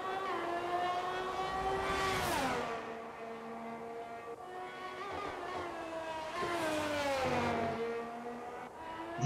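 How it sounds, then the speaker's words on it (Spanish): Race car engine from the F1 22 video game, a high-pitched whine that climbs and drops through gear changes, revving up twice in a steady loud drone with no talk. "cómo suena ese coche"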